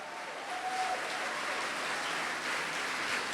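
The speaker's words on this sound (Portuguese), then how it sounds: "levante a sua mão e aplauda ao Rei dos Reis" A church congregation applauds during a sermon, producing a faint, even wash of many distant hands clapping that holds steady throughout, with no clear voice on top.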